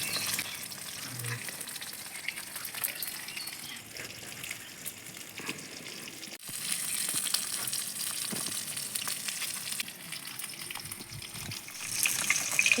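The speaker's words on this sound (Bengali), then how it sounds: "আর কিছু মাছ ভেজে নেবো।" Rohu fish pieces fry in hot oil, a steady, dense sizzle that runs throughout and grows louder and brighter midway, heard close with no voices.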